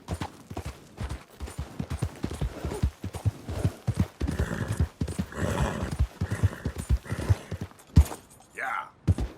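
Hoofbeats of a horse ridden in the open-world video game Red Dead Redemption 2, with a clip-clop rhythm and a whinny, running under game dialogue.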